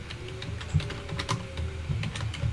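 Rapid, steady clicks from a computer keyboard during a web coding session, close and fairly clear over a faint hum, with no one speaking.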